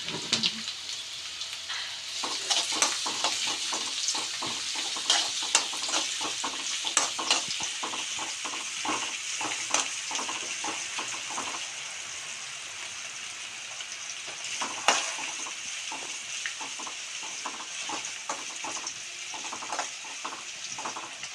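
Mango ginger frying in hot oil for a homemade mango pickle: a continuous bright sizzle with frequent sharp stirring clicks and scrapes throughout, close and unbroken by speech.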